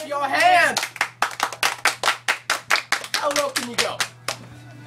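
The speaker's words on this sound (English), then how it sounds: "Everybody clap your hands." Hands clap in a steady rhythmic beat along to a children's song, about a dozen sharp claps close by, with a voice singing over the first part and again midway.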